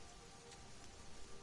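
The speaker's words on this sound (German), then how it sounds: "War der Regen." Steady rain from the video game Sheltered, a soft, even hiss of falling drops with faint patters, continuous and fairly quiet with no voices.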